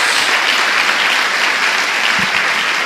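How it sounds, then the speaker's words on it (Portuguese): A church congregation claps for the Lord in a loud, dense, continuous burst that holds steady throughout. "Dê uma salva de palmas ao Senhor."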